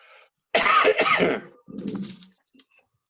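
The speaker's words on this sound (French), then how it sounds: "Faut tousser dans le coude." Two harsh, close coughs in quick succession during a municipal council meeting, followed by a softer throat-clearing rumble and a faint click.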